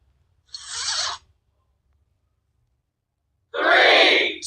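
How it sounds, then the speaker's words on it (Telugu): Two quick zip effects from the InShot video editor, each a short rasping sweep heard alone and up close. The second is longer and louder than the first, with near silence between them. "లేకుంటే జిప్ సౌండ్,"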